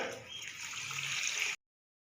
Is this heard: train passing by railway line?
no